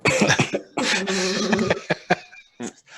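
Several short, harsh coughs burst out close to the microphone, sounding deliberate, followed by a few faint breathy sounds.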